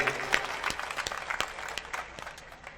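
A crowd at a live comedy show claps in honour of the sound crew, a moderate wash of applause with scattered sharp claps, gradually thinning out toward the end.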